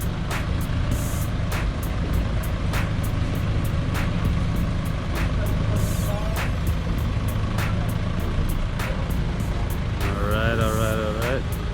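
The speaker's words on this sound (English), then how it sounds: "And here's the tow truck." A tow truck rumbles close by with a steady heavy engine drone, sharp metallic clanks and a brief squealing tone as it pulls up, with no clear talk over it.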